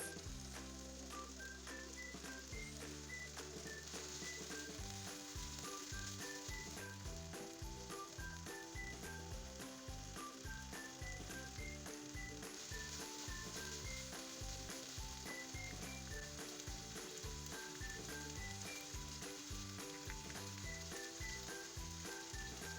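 Chicken liver cooks in a pan with ginger garlic paste, a loud, steady sizzle and hiss that goes on without a break, with stirring scrapes and game-style music playing under it the whole time.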